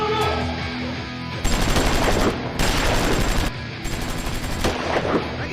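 Gunfire in a film scene: three long bursts of loud, rapid automatic fire separated by short pauses, close and harsh over a low background.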